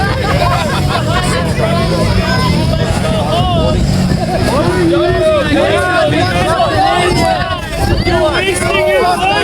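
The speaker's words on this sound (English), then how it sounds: "Here are the protesters." Crowd of protesters gathered outside a federal building in Minneapolis, a steady dense babble of many voices up close, with vehicles passing beneath the chatter throughout.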